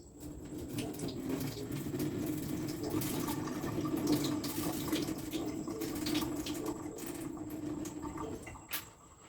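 Continuous trickling and splashing of water being drained off soaked rice, steady and moderately quiet, with no voices.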